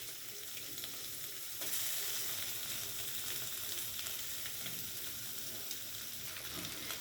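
Chopped onion and fish frying together in a pan, a dense continuous sizzle that swells louder partway through, heard up close with no talking.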